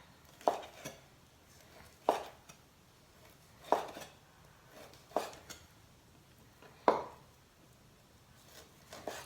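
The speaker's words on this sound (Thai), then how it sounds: "ตอนนี้เราก็มา เตรียมหั่นหมู สับไก่นะคะ" A knife chops chicken sharply on a board, six separate strikes at an uneven, unhurried pace, close and distinct over a quiet background.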